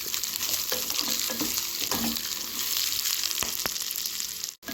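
Peanuts roast in a pan for a bottle gourd masala curry, with a continuous sizzle and repeated sharp scrapes and clicks of a spoon stirring them close by.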